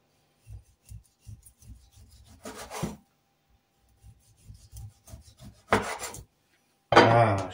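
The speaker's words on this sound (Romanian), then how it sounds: "o să ne tăiem o dărabă de slană," A knife cuts through a slab of pork fat for cracklings, giving a few short rasping strokes against a board, separated by quiet pauses, with a louder scrape at the end.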